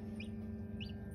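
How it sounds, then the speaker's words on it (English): Newly hatching baby chicks chirp faintly inside an incubator, two brief high peeps about half a second apart over a steady low hum. "You can hear them chirping as well."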